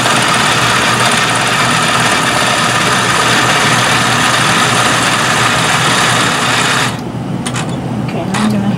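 A domestic sewing machine runs steadily, stitching the top edge of a quilt sandwich for a disappearing nine-patch quilt, a continuous close mechanical hum that stops near the end.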